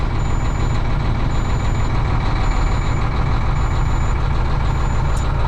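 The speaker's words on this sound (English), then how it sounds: "I'll let it warm up just a little bit more, and then I'll fast idle it." A diesel truck engine idling steadily after a cold start, warming up with a continuous low rumble; a faint repeating high beep recurs in the background.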